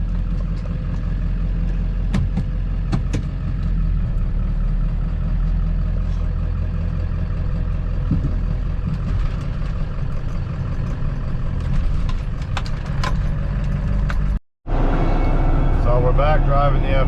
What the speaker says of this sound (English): we're gonna take the white truck out for a test drive